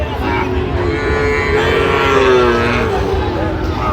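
Cattle low loudly and close at a busy weekly livestock market where Sahiwal bulls and calves are sold, one long moo rising over a dense wash of crowd noise and talk.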